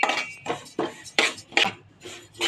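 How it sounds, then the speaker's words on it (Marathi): Sesame seeds roasting in a pan are stirred in quick, rhythmic strokes, and each pass gives a close, gritty scrape and rattle against the metal, repeating about twice a second. "एक पेला मी तीळ घेतले आणि चांगलं ढवळायचं, परतायचं चांगलं"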